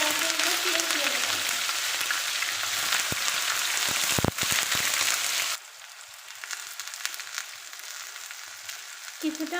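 Cumin seeds with black and green cardamom frying in hot oil for a liver curry, a loud continuous sizzle with a few sharp crackles and stirring knocks, then dropping to a quieter, steadier hiss.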